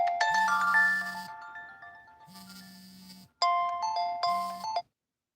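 A phone rings with an incoming call, its melodic ringtone playing loud and clear in three repeated bursts, each a bright chiming phrase with short gaps between, with no talking.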